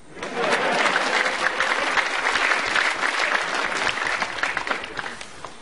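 Stand-up comedy audience clapping for the comedian, rising quickly to a full, sustained round of applause that holds steady before thinning slightly toward the end.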